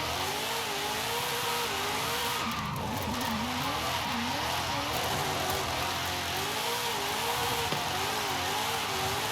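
A Bugatti slides on the handbrake along a scruffy, snow-dusted road in Forza Horizon 5, with repeated wavering tire squeals over a constant engine roar, loud and close, and no speech.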